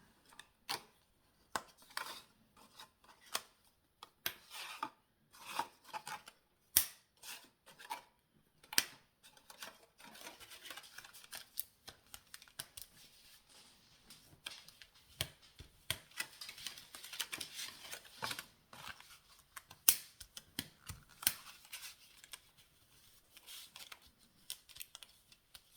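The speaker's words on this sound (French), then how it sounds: "on va couper nos papiers déco" Decorative paper for an Easter pop-up card cut with scissors, a long series of quiet, close, irregular snips and crisp paper rustles with no talk.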